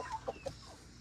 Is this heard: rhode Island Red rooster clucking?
yes